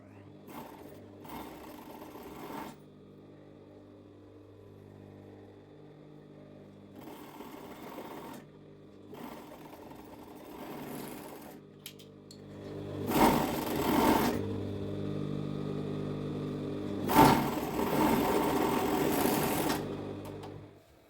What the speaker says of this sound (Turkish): Önce A kısımlarını şöyle dikiyorum.